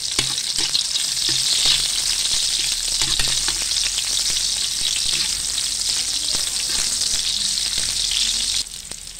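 Onion frying in hot oil in a pan, with garlic already added, produces a loud, continuous, close sizzle that barely changes throughout.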